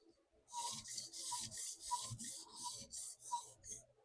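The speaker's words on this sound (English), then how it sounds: "This is the 600 grit stone coming in at you." A Monterey Bay Sabertooth knife is drawn across a 600 grit TSProf diamond stone in steady, rhythmic rasping strokes, about a dozen scrapes close to the mic.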